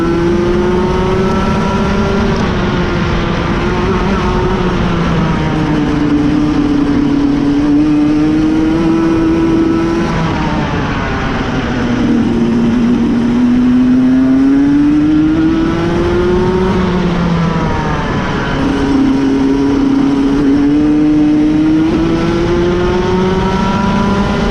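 A go-kart on a warm-up lap around a track, its small engine droning loudly and close throughout, pitch rising and falling as it accelerates out of corners and eases off into them.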